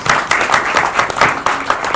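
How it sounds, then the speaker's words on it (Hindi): An audience at a film screening claps loudly and continuously, with dense, uneven hand claps rising and falling in bursts and faint voices mixed in. "एक बार जोरदार तालियां सभाजी के लिए."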